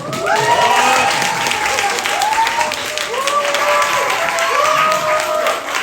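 A workshop audience bursts into dense, sustained applause with whoops and voices rising over it, staying loud and continuous from start to finish.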